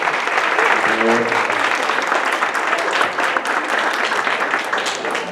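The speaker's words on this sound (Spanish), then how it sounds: "Pues un aplauso a Marisol." An audience at a lecture applauds the speaker Marisol, loud, dense clapping that continues steadily throughout, with a brief voice near the beginning.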